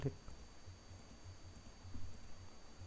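Faint, sparse mouse clicks sound at a computer during Photoshop work in a quiet room, with a few light ticks spread over a low background hum.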